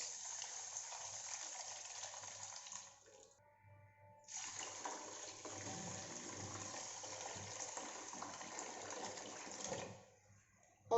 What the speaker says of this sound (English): Adding some water to it.